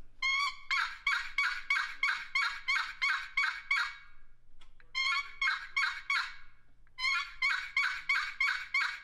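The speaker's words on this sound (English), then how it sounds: "we developed this call because we found that a high pitched box call works real well out west in Oklahoma and Texas for those Rios." High-pitched turkey box call with a poplar body and walnut lid, pitched for Rio Grande turkeys out west, giving three runs of rapid, raspy yelps separated by short pauses, close and clear with no talk.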